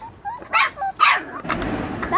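A puppy gives a few sharp, close barks spaced across the moment, followed by softer rustling and faint voices.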